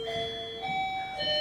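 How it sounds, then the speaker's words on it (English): A doorbell rings as a sustained electronic chime of clear, steady tones that shift pitch in a short sequence, heard alone without talk. "That's the doorbell."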